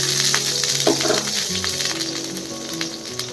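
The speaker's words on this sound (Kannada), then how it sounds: "ಆನಿಯನ್ ಹಾಕ್ಕೊಂಡು ಚೆನ್ನಾಗಿ ಫ್ರೈ ಮಾಡ್ಕೊಳ್ಳೋಣ" Half an onion sizzles and fries in about two tablespoons of hot oil in a kadai, a steady close crackling hiss with a brief stir partway through and no talk.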